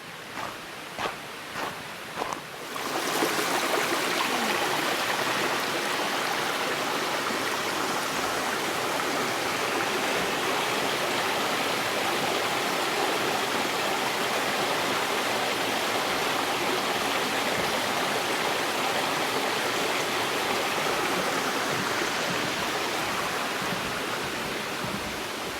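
A river on a forest trail rushes beneath a small wooden footbridge, a loud constant roar of flowing water that takes over after a few soft footfalls and holds steady throughout.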